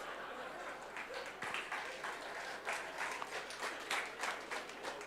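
Audience applause during a talk, a steady moderate patter of many hands clapping at a distance, with slight swells and fades.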